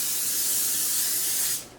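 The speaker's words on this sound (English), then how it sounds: "So I've got my bundt pan here. I'm going to spray it really well." Cooking spray hisses from an aerosol can onto a bundt pan, one continuous close spray lasting over a second before cutting off.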